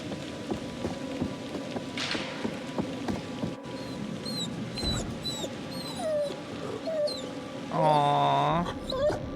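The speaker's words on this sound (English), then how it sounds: "Doggy sounds injured." Injured dog whimpering in The Devil in Me horror game on a remote wooded island, with thin high whines scattered through the clip over a rain-like ambient bed, ending in a louder, closer whimpering cry.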